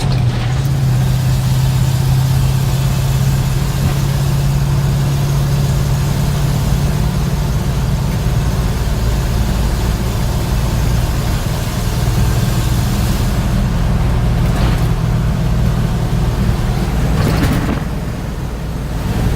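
A 1966 International Harvester 1300A one-ton pickup with a bolt-in camper cruises along, its engine droning steadily and loudly throughout, with a low hum and road noise and a couple of brief louder swells near the end.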